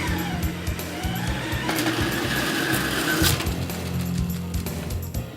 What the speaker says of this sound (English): a hole is drilled through the bottom of the wall and into the basement below